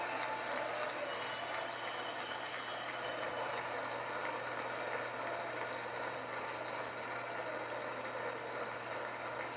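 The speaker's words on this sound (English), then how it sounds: "they're the ones not clapping" Applause fills a large chamber at the State of the Union address, steady and sustained throughout with no pause, heard from a distance.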